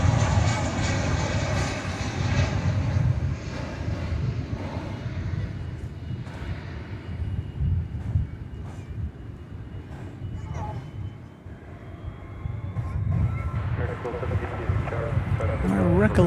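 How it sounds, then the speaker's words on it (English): An American Airlines Boeing 737-800 arrives at DFW Airport, its jet engines making a broad, steady roar that swells again toward the end, heard from a distance under ongoing talk. "Flight 355, American Airlines, 737-800."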